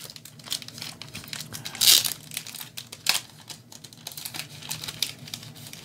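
Thin plastic team bag crinkles and rustles as a trading card is handled, with sharp crackling bursts and lighter intermittent rustles, close up and with no talking.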